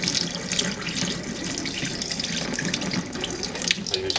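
Black-and-white film developer chemical poured steadily out of a film developing tank into a sink, a continuous close splashing gush of liquid with no talk.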